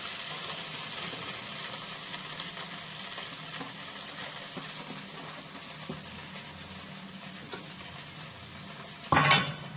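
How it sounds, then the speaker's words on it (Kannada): Soaked poha being stirred in a pan with a spoon, a steady scraping and soft clatter of utensil on metal for several seconds, ending in a brief louder clatter at the close. "ಒಳಗೆ ಹಾಕಿದ್ಮೇಲೆ ಜರ ಕರೆಕ್ಟಾಗಿ ಕಲಿಸ್ಬೇಕು"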